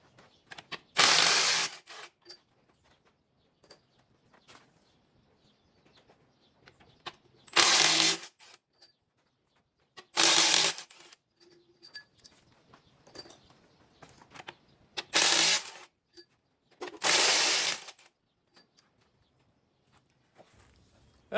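Several separate bursts of metallic clatter and ratcheting come from head bolts being removed from a 7.3L Powerstroke diesel engine. They sound close and fairly loud, with quiet gaps between them and no talking.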